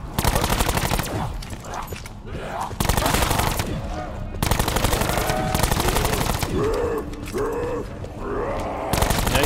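Rapid bursts of automatic gunfire from a pack-a-punched starting gun in a zombies video game, loud and repeated in several long volleys with brief gaps, alongside game sound effects and some speech.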